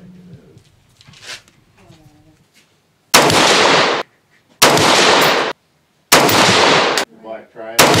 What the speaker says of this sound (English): Now we have Nosler's 55 grain FB tipped, shooting at the Top right